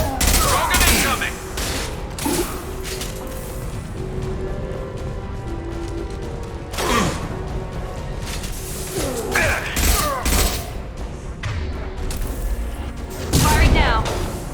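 Rapid bursts of sci-fi gunfire crackle through a Mass Effect 2 firefight, with loud volleys and mechanical clanks repeating throughout as in-game voices talk over the shooting.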